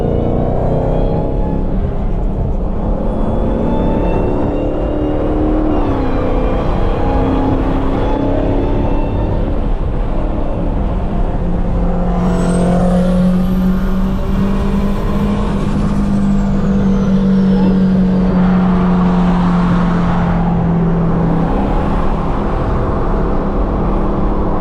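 SRT Hellcat driving at night while racing a BMW M4 and a 1000hp Supra, a loud continuous engine roar with rising revs and strong low rumble, plus a brief hiss like an air brake midway.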